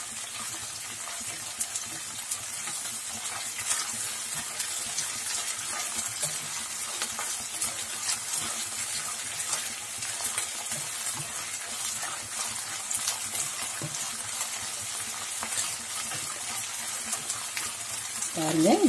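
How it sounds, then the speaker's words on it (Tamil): Ginger garlic paste sautés in a pan for mutton botti kuzhambu, giving a steady close sizzle and frying hiss with light stirring scrapes that continue evenly throughout. "இஞ்சி பூண்டு பேஸ்ட்டு போட்டுட்டு அதையும் நல்லா வதக்கிக்கணுங்க"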